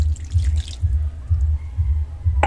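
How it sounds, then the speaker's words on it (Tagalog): Water poured into a pot for liver and gizzard adobo, a close, low, gurgling splash in uneven pulses. "Tapos ilalagyan po natin ng tubig"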